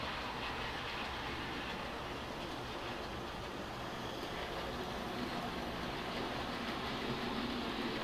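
An O scale model train rolls along with a steady, low rumble and faint track clatter, easing to a stop over several seconds; the running noise stays constant and moderately quiet throughout.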